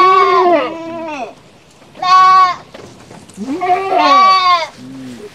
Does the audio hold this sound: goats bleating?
yes